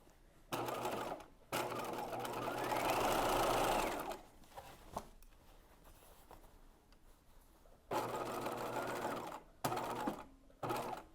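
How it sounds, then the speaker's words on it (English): Sewing machine stitching a bodice seam at a 5/8-inch allowance, several bursts of steady whirring at close range, one long run in the middle, then shorter separate runs with quiet pauses between them. "I am stitching at 5/8 of an inch"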